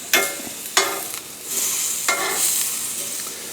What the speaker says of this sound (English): Doing vegetables on the grill, easy to clean off.